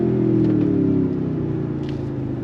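2023 Toyota Tundra TRD Pro twin-turbo V6 heard from inside the cab, accelerating with a loud, steady low engine drone that eases slightly after the first second.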